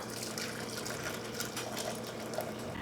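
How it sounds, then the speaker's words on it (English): Boiling water poured from a pot into a bowl for dissolving Jello, a steady continuous splashing stream running close and fairly loud for the whole stretch, with no talking. "We're gonna pour 2 cups of water in here."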